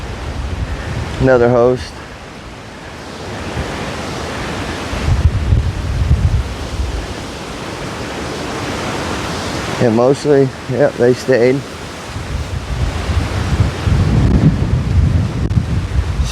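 Strong storm winds of up to 70 mph buffet the microphone at an RV park, a loud rushing roar with heavy low gusts that surges and eases throughout, while people talk briefly over it.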